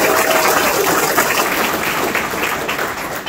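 Volunteers applauding at a food-packing event for children, loud dense clapping from a large group filling the room, sustained and close throughout.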